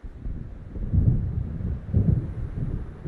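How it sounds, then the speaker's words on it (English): Deep thunder rumbles in two rolling swells from an approaching storm in the game Alan Wake Remastered, low and heavy with a steady wind-like wash between the peaks. "It seems there's a storm coming"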